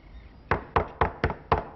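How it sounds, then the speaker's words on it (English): Five sharp, evenly spaced knocks on a wooden door, close and distinct after a brief quiet moment, as in a 1990s Los Angeles crime film scene. "I wondered when you might knock on my door again"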